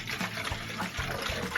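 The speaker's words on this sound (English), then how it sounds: "I'm going to pour some vinegar." Vinegar poured into a jug, a continuous liquid trickle and gurgle lasting the whole moment, close and fairly quiet with no voices.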